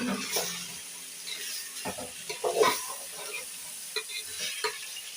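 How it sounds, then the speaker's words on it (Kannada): Tomatoes and vegetables frying together in oil, a soft sizzle broken by irregular stirring scrapes and clatters in the pan, close and moderately quiet, with no one speaking. "ಅದೆಲ್ಲ ತುಂಬಾ ಚೆನ್ನಾಗಿ ಎಣ್ಣೆನಲ್ಲಿ ಫ್ರೈ ಆಗಬೇಕು ಒಟ್ಟಿಗೆನೇ ಆಗುತ್ತೆ"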